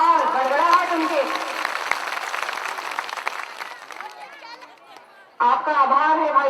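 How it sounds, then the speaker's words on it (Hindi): Thunderous audience applause at a public event in Sagar welcoming a Union Minister, dense clapping and crowd noise filling most of the stretch before tapering, then a voice speaking over the hall. "दोनों हाथों से तालियां जोरदार, गड़गड़ाहट उनके।"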